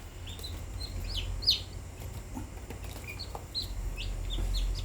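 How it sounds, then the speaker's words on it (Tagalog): Chickens cluck and chirp in short, scattered calls over a low background rumble, several birds close by. "Ang ganda ng mga manok ni Aling Mimay."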